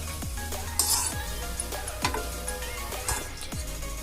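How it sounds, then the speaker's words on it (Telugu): Dried red chillies fry in a pan with a soft continuous sizzle, broken by regular scraping strokes of a spatula or spoon about every half second, close and moderately loud. "ఎండుమిర్చి ఎండుమిర్చిని వేగనియండి."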